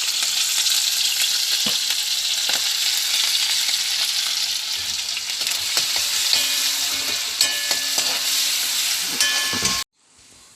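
Garlic and neem leaves fry in hot oil, a loud, continuous hissing sizzle with occasional sharp crackles and stirring clinks, cutting off abruptly near the end.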